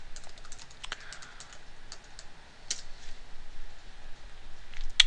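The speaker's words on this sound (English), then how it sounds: "we type it into our browser" Quiet, close clatter of fingers typing on a computer keyboard, irregular bursts of key clicks with a few sharper taps near the end, no voices.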